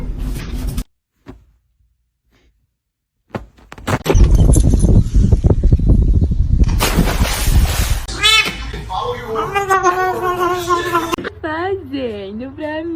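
A pet cat meows repeatedly in a series of wavering, drawn-out cries after a brief silence and a burst of noisy rustling, close and fairly loud.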